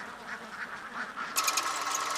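Chara and Chemballi ducks of Kuttanad quacking: a run of soft, nasal quacks that gets suddenly louder and busier toward the end, with no talking.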